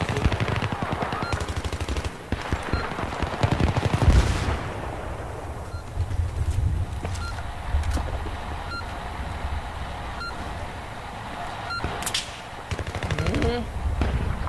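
Rapid bursts of automatic gunfire crackle repeatedly in Battlefield 3 combat, with some single shots and short beeps scattered between volleys.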